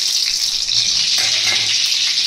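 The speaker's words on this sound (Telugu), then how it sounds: "దానికి నేను ఒక 1/2 కప్ ఆయిల్ తీసుకున్నాను. దాంట్లోనే బటర్ కూడా వేసేస్తున్నాను." Butter dropped into half a cup of hot oil in a pan fries with a steady, even sizzle that holds loud and close throughout, with no voices.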